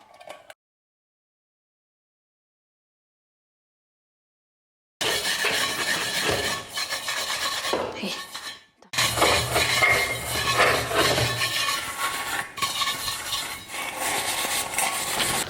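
Continuous clattering and scraping of dishes, pots and utensils being washed, close and fairly loud after a stretch of silence, with a short break midway before the clinking resumes.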